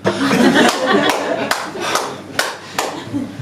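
Comedy club audience at an open-mic stand-up night gives a handful of sparse, separate claps at uneven intervals, mixed with a talking voice and scattered chuckles.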